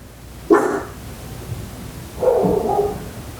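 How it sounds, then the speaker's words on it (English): A dog barks outdoors, two separate loud bursts about two seconds apart, with a brief faint sound between them and no talking. "It's like a crazy dog."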